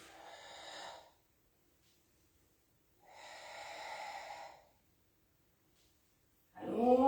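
Two long, breathy exhalations during a Pilates exercise, each lasting about a second or more, separated by quiet pauses, close to the microphone, with another sharp breath starting at the end.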